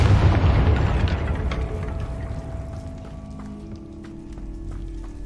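Confringo fire spell explosions in Hogwarts Legacy, a loud booming blast at the start that rumbles and fades, followed by lighter game effects and a thin musical tone.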